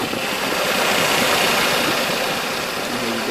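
A 1989 Mercedes 230e petrol engine runs close by with a dense, steady, even drone that holds at a constant level throughout, with no voices over it.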